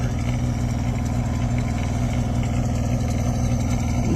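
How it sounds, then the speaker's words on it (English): A combustion engine that has been fitted into a Tesla car runs at a steady idle, a low continuous hum and rumble with no pauses and no voices. "You put an engine in a Tesla."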